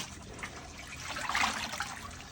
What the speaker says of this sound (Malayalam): കുറച്ച് വെള്ളം ഇട്ടേക്കാം.